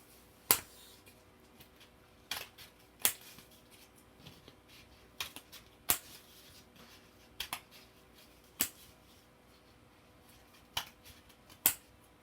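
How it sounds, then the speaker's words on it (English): Sharp, isolated snips of scissors cutting craft material, about ten quick clicks spaced irregularly over a quiet room background with no talking. "So I'm going to want to trim this side down."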